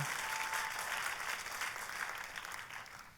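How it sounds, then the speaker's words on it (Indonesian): A congregation applauding during a church sermon, dense and sustained clapping from many people at a steady level that eases off slightly toward the end. "boleh saya dengar tepuk tangan yang paling meriah buat Yesus Tuhan kita"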